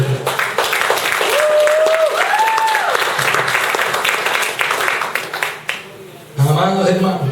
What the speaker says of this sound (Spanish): Un fuerte aplauso a Cristo.